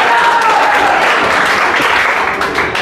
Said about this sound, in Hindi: तालियां तालियां तालियां, जोरदार तालियां।